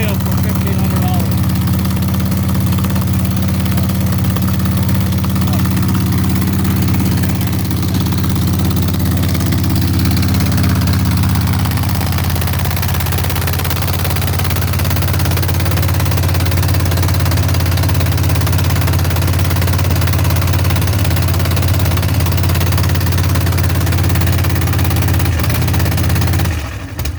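A 1960s Chevado wheel-stander nitro dragster engine runs loud and rough at Irwindale dragstrip, a deep, steady rumbling idle with a brief rev early on, sustained for nearly half a minute with a voice talking over it.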